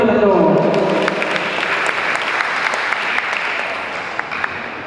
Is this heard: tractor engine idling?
no